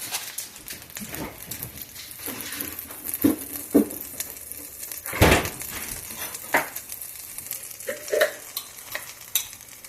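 Butter melts into hot coconut oil in a frying pan, crackling and sizzling up close, with intermittent scraping and stirring clatter. No one speaks.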